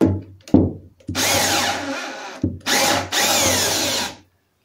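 Power drill boring a hole through stainless steel during a sailboat daggerboard and bulb build, with three loud, close bursts of steady whining drilling separated by brief stops and clunks.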